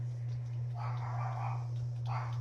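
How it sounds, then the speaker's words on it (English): A dog barks outdoors at some distance, two muffled bursts over a loud steady low hum, with no talking. "I got that other crazy ass dog over there barking like the dickens"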